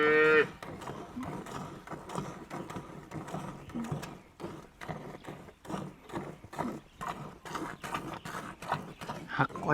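A Holstein dairy cow moos loudly at the start, then rhythmic milking-like swishes and farmyard bustle continue while a person talks nearby.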